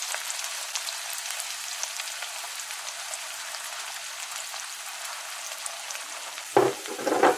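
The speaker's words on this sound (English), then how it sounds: "we want to fry up the onions a bit, release some aromas, get a little brown" Onions sizzling in a pan as they brown, a steady bright crackle throughout, then a couple of louder stirring scrapes near the end. No talk.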